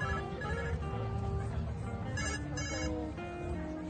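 A mobile phone rings during an outdoor talk about native prairie plants, a steady repeating electronic ringtone filling the whole stretch at moderate loudness with no speech over it.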